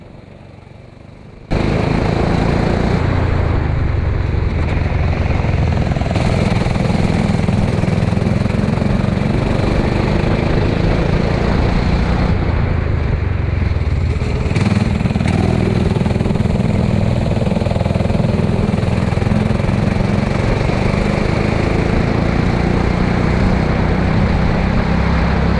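A go-kart engine races on a wet track at Cromer, a loud, steady, buzzing drone heard close up from the driver's seat that rises and falls with throttle for the whole stretch, with no talking.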